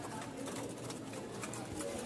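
Pigeons cooing at a pigeon market in Mirpur, Dhaka, soft repeated coos over a busy, noisy background, heard faintly and steadily throughout.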